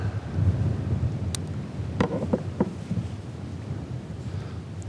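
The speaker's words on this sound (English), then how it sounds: "the wind is a little bit gusty out here today" Gusty wind buffets the microphone out on open water during spring crappie fishing, a low rumbling roar that surges and fades, with a few brief knocks partway through and no speech.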